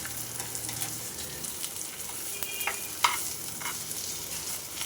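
Jackfruit pieces shallow-frying with spices in a pan over a low flame, a soft continuous sizzle with occasional light scrapes and taps of a spatula, heard close and quiet with no voices.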